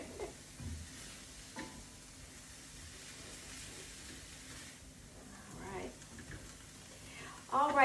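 Sausage, Italian peppers and onion sizzling in a pan as they are stirred, a soft steady fry with occasional scrapes and a brief louder clatter at the end; a voice speaks briefly in the background.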